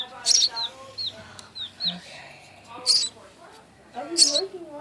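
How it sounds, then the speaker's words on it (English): An orphaned baby sparrow gives shrill, high chirps in short bursts while being hand-fed, with a few squeaky calls spaced between them and quiet talk nearby. "This is how you feed a little baby sparrow."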